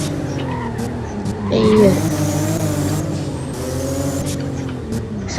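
Car engine revving and tires squealing in a skid in the Roblox Driving Empire game, loud and continuous with a rising whine, while a person exclaims over it.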